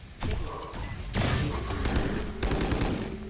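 Rapid automatic gunfire in the tactical shooter Valorant, loud close bursts of sustained shooting separated by short gaps, with mechanical clatter between volleys.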